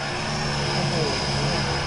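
Airliner engine in BeamNG.drive, a steady broadband roar with a sustained whine held loud and even throughout, with no break in the drone.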